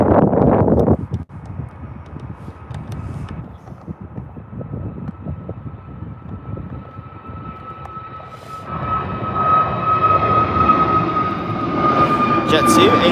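A Jet2 Airbus A321 at Birmingham Airport makes a steady, broad jet roar that swells louder in the second half, heard from the airport surroundings with a faint constant whine.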